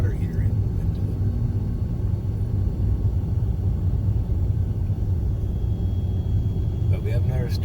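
A car drives along the road on the way to a hardware store, heard from inside as a constant low engine and road rumble with faint murmuring voices.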